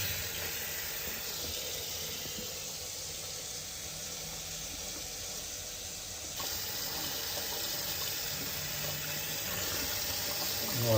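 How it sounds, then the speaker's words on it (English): Water runs steadily from a tap as cleaned pike eel skulls are rinsed, a continuous hissing splash that grows slightly louder and fuller partway through. "I'm going to pull them out, give them a rinse"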